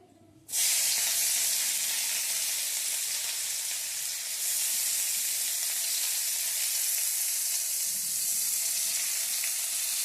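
Chopped onions hit hot oil with a sudden loud sizzle, then a steady, bright frying hiss continues without pause, close up.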